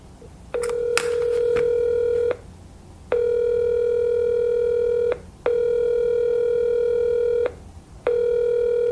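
An outgoing phone call rings out as a steady electronic ringback tone in long repeated bursts with short silent gaps. A few quick clicks come at the start, and no one speaks.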